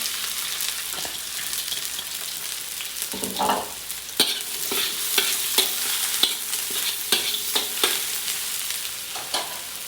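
Onion and garlic frying with ginger in a pan for a Bicol Express–style dish of braised pork hock, a steady close sizzle with repeated scraping stirs throughout and no talking.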